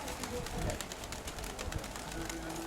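Young pigeons coo softly at a dovecote, low murmuring calls under steady background noise with a few faint clicks, fairly close and no clear talk.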